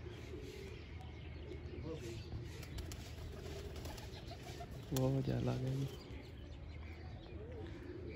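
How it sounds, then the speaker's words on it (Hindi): A pet pigeon coos once in a short, soft, throaty burst, close by, against a steady outdoor background hum while someone talks nearby. "अपने कबूतर बैठे हुए हैं"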